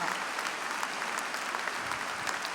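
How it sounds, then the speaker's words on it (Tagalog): A church congregation claps in praise for the Holy Spirit, a steady, dense wash of applause from a large crowd throughout. "Wala na bang lalakas dyan sa palakpak para sa God the Holy Spirit?"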